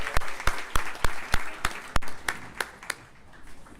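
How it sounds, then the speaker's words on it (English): A downtown Asheville event crowd claps in a rhythmic, unison beat of about a dozen strong, evenly spaced claps. The claps are loud and close, then fade out over the last second. "give yourselves a round of applause."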